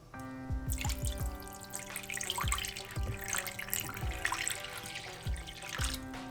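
Red wine poured into a pot while cooking stuffed pork loin gives a close, trickling splash with scattered drips and small clinks, and no talk over it.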